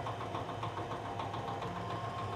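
An electric onion-slicing machine runs while cutting shallots for fried shallots, making a quiet, steady motor hum with a faint rhythmic rattle and no voices.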